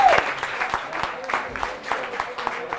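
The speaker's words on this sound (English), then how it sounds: "give every EMT and paramedic in the house a nice round of applause" Audience applause in a burger restaurant, a steady patter of clapping from a small crowd with scattered sharp claps, close and moderately loud, with a voice briefly over the start.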